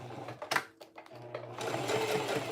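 Sewing machine stitching a clear plastic tote with a gusset: a few short starts and stops, then a steady run of fast, whirring stitching, close and moderately loud.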